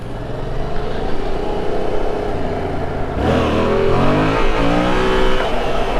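A Yamaha MT-07 motorcycle engine idling with the idle turned up, a loud, steady near rumble that shifts partway through into a higher, rising rev before settling, with no talk.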